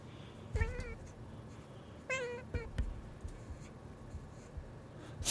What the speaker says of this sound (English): You're welcome for the cat meows.